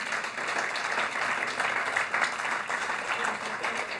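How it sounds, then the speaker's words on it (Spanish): Church congregation applause, a continuous crowd of hands clapping with slight swells in intensity, moderately loud and without speech. "dele el aplauso al Señor"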